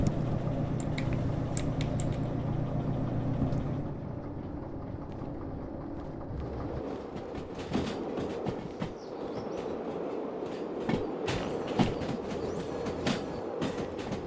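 Locomotive rolling along rails in the train simulator Derail Valley, a continuous loud rumble with rattling clicks and clanks building in the second half, no voices.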